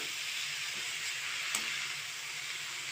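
Chukkakura, a leafy green, goes into a hot pan and hisses in a steady, close sizzle. The sound stays even for the whole three seconds with one small pop near the middle.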